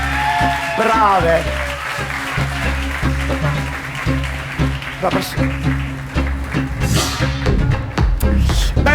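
Audience applause rises for young women contestants on a Sicilian cabaret stage show, steady clapping throughout the room running under an announcer's voice and background music.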